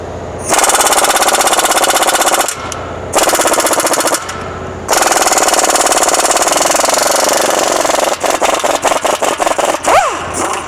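Air compressor in a mechanic's shop running loud and close in long continuous bursts with brief pauses, ending in rapid stuttering pulses like an impact tool hammering.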